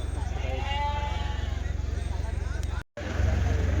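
Sheep bleat in wavering calls at the weekly sheep and ram market in Kadiri, over a steady low engine rumble, with a brief dropout near the end.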